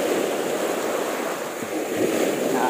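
Steady roar of strong wind buffeting the microphone while fishing, rushing and continuous like surf, with no voices.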